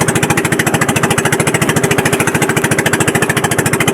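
A Honda engine mounted on the hull of a fishing boat chugs steadily and loudly up close, its rapid even pulses beating a fast rhythm throughout with no voices.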